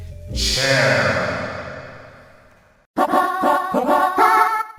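A drawn-out voice rings with heavy echo that slowly decays, then a second burst of reverberant vocal sounds follows in quick, repeated pulses.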